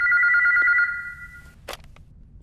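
A telephone bell rings in one close, loud trill that lasts about a second, then cuts off, followed by a couple of soft clicks and handling knocks.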